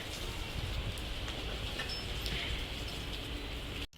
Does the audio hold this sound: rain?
yes